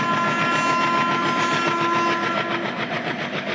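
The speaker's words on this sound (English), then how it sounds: "A 12-coach train enters and stops at platform number 4." A 12-coach passenger train pulling into platform 4 at Bathinda station in Punjab at night, a loud, steady rumble of rolling wheels and rail noise that fills the whole stretch without pause.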